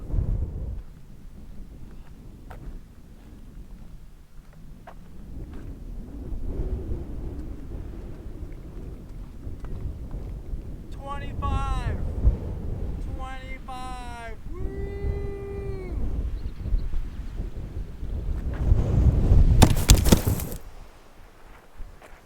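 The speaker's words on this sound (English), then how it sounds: "Wow, so windy it knocked my camera over." Strong wind on the Black Mesa summit, Oklahoma's highest point at 4,972 feet, roars and buffets the microphone in heavy low rumbling gusts, swelling louder near the end, with a few brief high tones cutting through midway.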